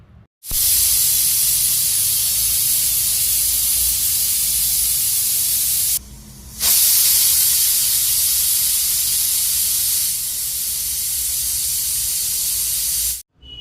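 A pressure cooker whistle releases steam in a loud, continuous hiss, broken by one brief pause before the jet resumes and runs on.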